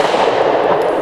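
A Smith & Wesson Equalizer pistol fires at an outdoor range, one loud close report whose sharp blast fills the whole short moment.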